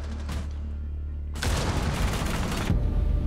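A C4 charge detonates in the tactical shooter Rainbow Six Siege, a sudden loud blast that cuts in after a low humming lull and rumbles on with crackling debris for more than a second before dropping back to a steady drone.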